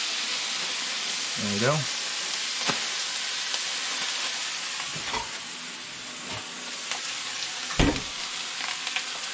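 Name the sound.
turkey cold cuts frying in a pan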